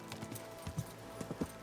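Hooves of a horse in Kingdom Come: Deliverance II clop at a walking pace, in soft irregular pairs against quiet background ambience, faint and without voices.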